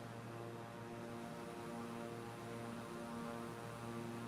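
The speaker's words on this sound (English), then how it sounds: "It's a bit quicker than the light aircraft because it's a twin prop." Steady, even drone of a twin-propeller airplane's engines in Flight Simulator, a constant humming tone with no change in pitch, alone without talk.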